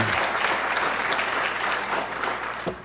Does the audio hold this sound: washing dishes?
no